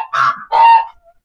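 Two short clucking calls from a native chicken on a farm sound nearby, one after the other, followed by quiet.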